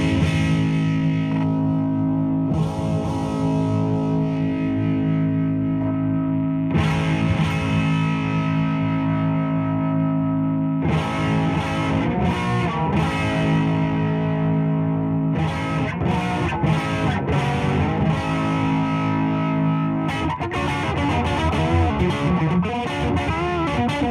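An electric guitar runs through a Marshall Jackhammer JH-1 distortion pedal with its contour adjusted, producing loud, heavily distorted chords and riffs that ring and sustain in several phrases, with no talking.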